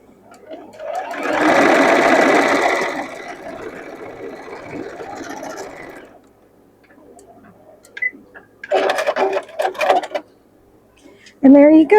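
A sewing machine stitches a waistband on a summer outfit: a loud, fast whirring run of a few seconds, then a softer, steadier stretch, followed by a voice talking briefly near the end.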